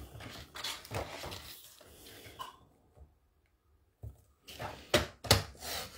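Paper cutter slicing through paper in short, crisp chopping strokes, a few close, distinct cuts separated by a brief quiet gap, with soft handling noises between them; no talking.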